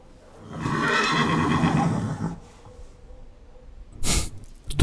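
A horse whinnies loudly and close for about two seconds, followed by quieter background noise and a brief sharp burst near the end.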